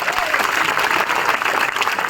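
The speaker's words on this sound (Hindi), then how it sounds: "एक बार जोरदार तालियां बजाओगे" Crowd at a political rally bursts into loud, sustained applause, a dense steady wash of clapping with no pauses and no clear voice on top.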